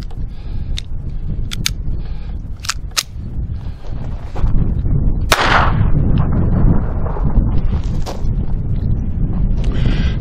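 Beretta 21A Bobcat .22 pistol firing Aguila ammunition outdoors, several sharp close reports scattered irregularly across the span over steady wind noise.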